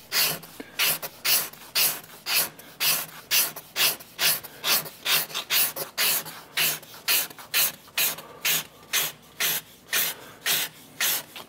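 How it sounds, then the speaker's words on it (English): A hand scraper shaves wood while rough carving an archtop guitar, about two dozen evenly spaced rasping strokes close up, each a short bright scrape followed by a brief pause. "this style of scraper really deals beautifully with tear out and, you know, going, so to speak, the wrong way"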